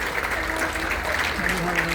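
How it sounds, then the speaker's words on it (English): Audience applause at the Windsor Dog Show 2025 working group ring as shortlisted dogs move, a steady moderate clapping wash with crowd murmur and a faint voice over the top. "give a round of applause to your favourites"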